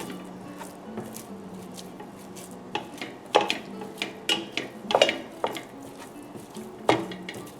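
Italian sausage being broken up and browned in a pan for potato soup, with repeated scraping and clinking of a utensil against the pan in uneven bursts, close and moderately loud, no talking.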